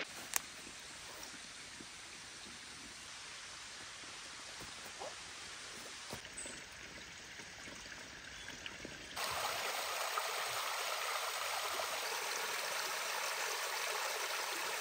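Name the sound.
stream of flowing water beside forest campsite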